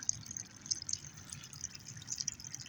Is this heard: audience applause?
no